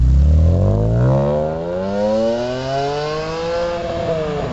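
A BMW M3 E46 fitted with aftermarket race mufflers revs hard, its raspy exhaust note sweeping upward in pitch, settling back, then climbing again. The sound is loud, close and uninterrupted, with no talking.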